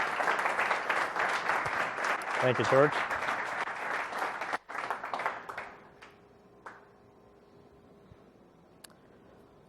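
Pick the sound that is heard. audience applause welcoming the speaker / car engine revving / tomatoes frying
audience applause welcoming the speaker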